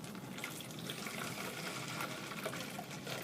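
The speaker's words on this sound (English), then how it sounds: "then I want you to pour your solution out, your saltwater solution" Saltwater solution pours steadily out of a container into a sink, a continuous splashing, hissing trickle heard close up without pause and with no voices.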